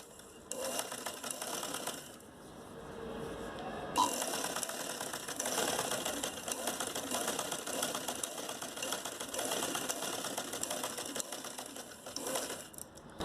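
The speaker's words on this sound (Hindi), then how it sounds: "अब इसको हम यहाँ बिल्कुल सीधी सिलाई करके इसको दोनों को अटैच कर लेंगे।" A sewing machine runs a straight stitch along a homemade fabric face mask, whirring steadily in long bursts with a brief slowdown early on, near and clear without talking.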